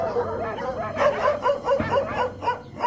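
Several dogs at a large dog pound in Vermont bark and yip in quick, uneven bursts, fairly close and loud, with some whimpering between the barks.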